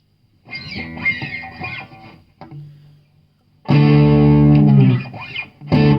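Distorted electric guitar on a PRS SE Standard 24's neck pickup, with a warm, dark tone: a few picked notes and chords, then a loud sustained crunchy chord ringing out.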